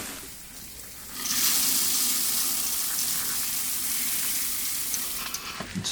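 Grains for a chocolate stout, chocolate malt among them, being mashed into hot water in a RoboBrew/BrewZilla and stirred slowly with a spoon, giving a loud, continuous watery rush after a quieter start.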